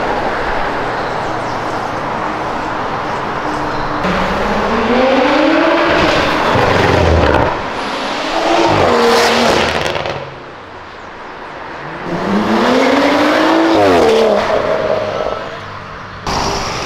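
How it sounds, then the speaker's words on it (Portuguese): Cars on a street pass nearby one after another, each rising in a roaring engine sweep with pitch shifts and then fading, with loud bursts and rumbling traffic between passes. "mais um carrinho normal na Euro passando."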